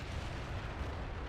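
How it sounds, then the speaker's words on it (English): Artillery guns fire in the distance during a fort siege in the war game Men of War, a low continuous rumble of far-off booms blending together with no distinct single blasts. "Hear all those guns in the distance?"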